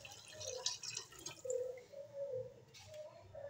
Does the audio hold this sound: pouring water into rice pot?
yes